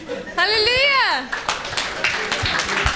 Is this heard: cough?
no